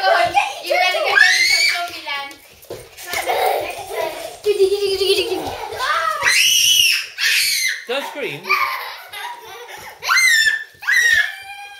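Children scream and shriek loudly while playing at a tenth birthday party, with high squeals, giggles and excited kid chatter overlapping in bursts close by.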